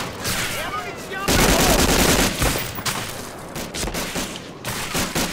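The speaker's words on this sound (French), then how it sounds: "y'a encore des mecs qui me tirent dessus" Enemy gunfire in Medal of Honor, dense overlapping shots and bursts from several weapons, loud and close, with rattling fusillades swelling and easing across the clip.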